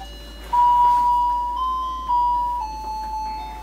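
A child's electronic toy beeps out a short run of sustained, slightly shifting electronic tones each time a button is pressed, close by and fairly loud with no talking.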